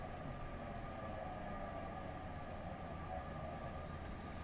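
An SNCF TGV Duplex high-speed train runs the Marseille to Avignon route in Train Simulator 2016, giving a steady, continuous rail rumble with a bright hiss rising partway through, with no voices.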